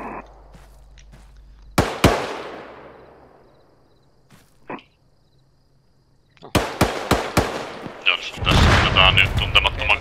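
Gunfire from the military game Arma 3 in an Afghan setting: a sharp isolated shot with a decaying echo, a faint pop later, then a rapid cluster of loud shots and a dense burst of fire toward the end.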